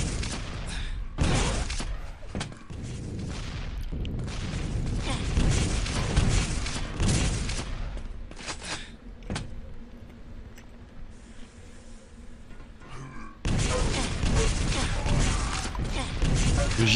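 Rocket launchers fire and explosions boom in a deathmatch game of a video game tournament, with dense, loud bursts and a short quieter gap partway through. A commentator talks over the gameplay.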